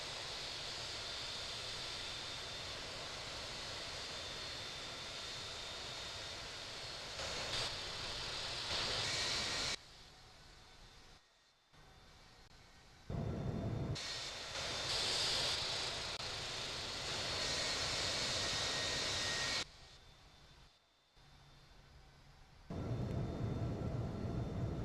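A WestJet 737 MAX taxiing in the Infinite Flight simulator gives off a steady, loud broadband jet engine roar and whine. The level shifts in blocks and drops out briefly several times.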